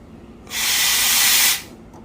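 A VBM Domobar Super Elettronica dual boiler espresso machine's steam wand frothing milk lets out a single strong, loud hiss lasting about a second, starting and stopping abruptly, with no talk.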